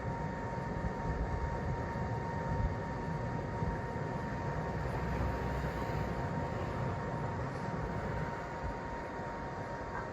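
A pellet smoker's fan roars as it ignites, a loud, steady rushing like a jet engine, continuous and close throughout, with a faint constant tone underneath.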